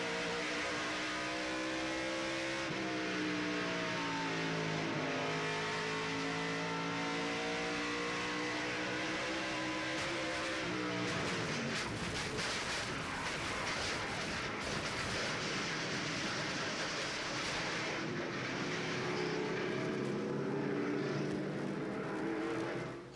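A race truck in the 1996 Coca-Cola 200, recorded from the onboard camera. The engine roars loud and continuous, its pitch climbing and dropping through repeated gear changes and throttle lifts with no talk over it.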